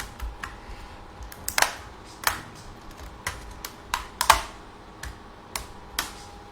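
Prying open the keyboard of a Lenovo laptop makes a series of sharp, irregular plastic clicks and snaps, close and crisp, with faint background between them.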